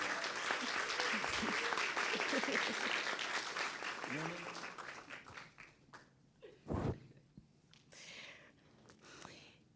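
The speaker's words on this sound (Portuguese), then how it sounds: "Uma salva de palmas para o nosso querido Dom Philó" Audience clapping at a panel on Black memory for an honored speaker: a full round of applause at first, thinning into scattered claps and thumps, with voices and rustling as it fades.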